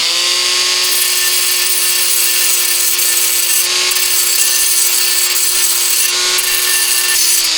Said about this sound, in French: J'ai monté ma meuleuse volontairement. Je vais bavurer un petit coup là.